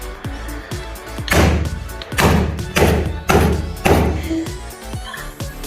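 Repeated heavy thuds as a piggy bank is struck to break it open, about five loud blows in an uneven rhythm with quieter taps between, close by, with voices and laughter around.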